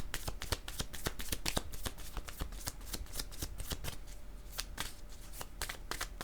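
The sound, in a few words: shuffling tarot cards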